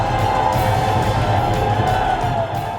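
A dense crowd of BJP workers cheers at party headquarters after hours of waiting, a steady roar of massed voices and whoops that holds at an even level throughout.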